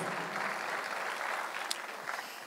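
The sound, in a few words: church congregation applause giving glory to God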